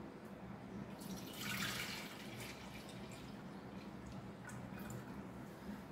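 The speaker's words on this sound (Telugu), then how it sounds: "ఇప్పుడు ఈ గంజి పోసేస్తున్నా ఇందులో." Rice starch water (ganji) being poured into a clay pot for a traditional probiotic drink, a steady liquid trickle and splash that swells briefly mid-pour, with no talk.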